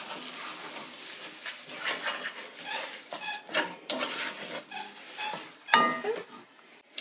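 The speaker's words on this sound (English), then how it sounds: "I'm adding the last bit of butter, sorry, the last bit of milk, and stirring our bechamel sauce" A spoon scraping and rubbing steadily around a pan as milk goes into a bechamel sauce cooking on low heat, a soft, close, irregular stirring rasp with a faint sizzle.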